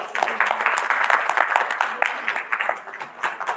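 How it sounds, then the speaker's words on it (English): An audience at a live dental implantology event gives a round of applause to welcome guests, with brisk, bright clapping from many hands that tapers unevenly toward the close. "Let's welcome them with a huge round of applause."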